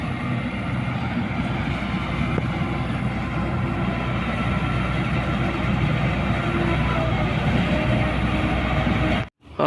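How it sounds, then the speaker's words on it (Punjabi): A tractor hauling a trolley along a rough rural track gives a steady, loud, continuous engine drone and rumble that runs unbroken before cutting off abruptly near the end. "ਆ ਗਿਆ ਜੀ ਆਪਣਾ ਟਰਾਲਾ ਵੀ ਟਰੈਕਟਰ ਪਿੱਛੇ"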